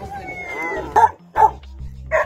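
An old dog at a dog shelter barks in three short, loud bursts spaced about half a second apart, with low background noise and some voice-like sound between them.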